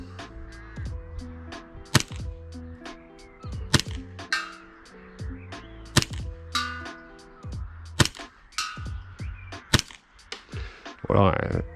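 Airsoft Hi-Capa custom pistol firing BBs at a target, a series of sharp, snappy shots with metallic clacks spaced irregularly over steady background tones.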